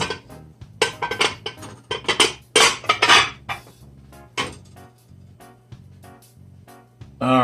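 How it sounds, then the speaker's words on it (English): Metal pot and lid clatter while cabbage rolls stuffed with flounder cook: a series of sharp clinks and scrapes of cookware, bunched in the first few seconds, then quieter knocks and a final clank, with no talk. "we're going to take the lid off"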